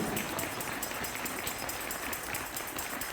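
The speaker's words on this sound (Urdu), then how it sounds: "محبت کرنے والے خدا کے لیے زوردار تالیاں بجائیے" A church congregation at a Sunday worship service claps steadily, a dense wash of applause that holds at an even level for the whole stretch, with no voices standing out.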